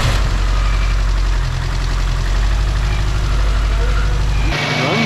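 A 2007 Subaru STI Limited engine idles nearby with a steady, deep rumble and slight knock, running continuously before cutting off abruptly near the end.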